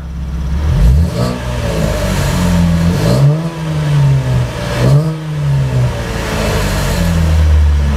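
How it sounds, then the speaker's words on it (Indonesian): A 2015 Chevrolet Camaro with a 3.6L V6 and automatic gearbox is revved while parked, the loud engine note climbing and falling in three or four swells and settling back to idle, with no voices. "dan sekarang kita akan gas RPM-nya"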